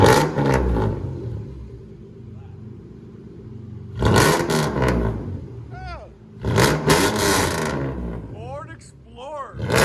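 1997 Ford Explorer with a 4.0L V6 and true dual straight-pipe exhaust, revved hard in repeated bursts. Loud, raw roars rise and drop between quieter idle stretches, close up.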